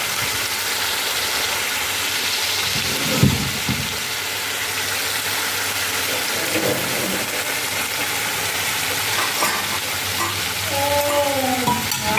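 Local free-range chicken meat sizzling and frying in a pan, a continuous loud hiss with a few louder clatters of stirring, no talking.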